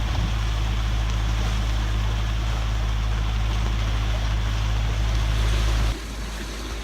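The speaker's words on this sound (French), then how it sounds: "On appuie au moteur, on a envie d'arriver" Sailing boat motoring across the sea between Italy and Greece, a loud steady low engine drone with wind and water rushing over it, the rumble dropping suddenly near the end.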